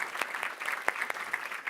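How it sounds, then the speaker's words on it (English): Applause from a conference audience at a plenary session, celebrating four challenge finalists: steady dense clapping with scattered sharper claps throughout, moderately distant and continuous. "So a big round of applause to these 4 finalists"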